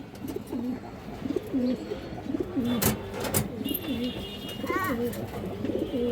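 A female Gorra pigeon coos repeatedly up close, soft throaty rolling calls in a steady rhythm, with a couple of sharp clicks and brief chirps.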